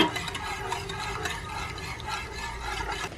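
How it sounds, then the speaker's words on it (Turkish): Soft wet stirring and sloshing of syrup through kadayif pastry, a steady close-up churning with faint kitchen clatter, no voices. "Şöyle bir karıştıralım önce."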